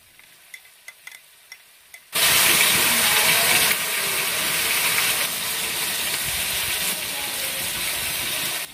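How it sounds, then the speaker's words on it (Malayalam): Crushed shallots drop into hot oil in a Malabar-style beef dum biryani preparation. After a quiet start the sound bursts into a loud, steady frying sizzle and hiss that holds for several seconds, with no talking. "നേരത്തെ ചതച്ചു വെച്ചിട്ടുള്ള ചെറിയുള്ളി നമുക്ക് ഇതിലേക്ക് ഇട്ട് കൊടുക്കാം."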